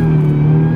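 A Cadillac CTS-V with a 556-horsepower engine holds a loud, steady high-rpm drone at the rev limiter, a brief close burst with no talking.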